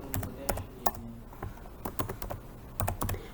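Quiet, close typing on a computer keyboard, with irregular clusters of light key clicks and taps, some in quick bursts, others spaced apart, against near silence.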